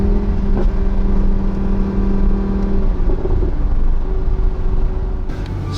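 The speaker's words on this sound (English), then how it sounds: "I like the whole show-off kind of V10 noise" A steady, loud V10 engine drone from inside a moving Audi R8 V10 Plus, with a sustained tonal hum and road rumble, no voices.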